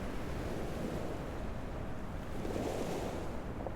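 Sea surf rushes and froths continuously against a shore below a tall cliff, a dense, steady wash with gusty wind noise and a slight swell near the end.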